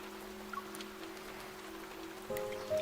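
Rain falls on city streets in the Love and Deepspace game as a soft, steady patter under a low hum, and a faint tone rises near the end.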